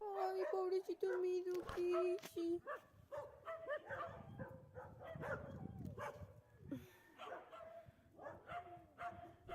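A pack of street dogs barks, yelps and howls in a rough chorus, with drawn-out howling tones among sharp barks, and people talk over them throughout.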